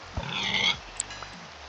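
Pigs grunt and oink in a Minecraft modpack game, a few short snorting grunts close by, alone without talk.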